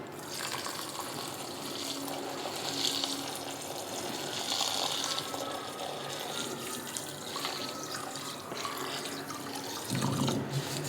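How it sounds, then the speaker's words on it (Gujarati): Water pours steadily onto sugar in a container for mango murabba syrup, a continuous splashing rush that carries on for several seconds, with a brief heavier gush near the end. "એમાં પાણી એડ કરવાનું છે"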